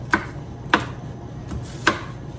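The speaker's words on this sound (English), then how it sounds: "to chop very easily your onion" A kitchen knife chops an onion on a cutting board, three crisp, distinct knocks spaced unevenly and heard close up, with a quieter tap between the last two.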